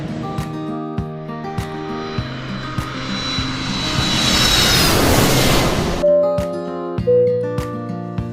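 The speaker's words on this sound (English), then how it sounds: "A is for airplane up in the sky." Airplane flying overhead in a toddler vehicles song: a steady engine roar swells and fades over several seconds, with music playing beneath it.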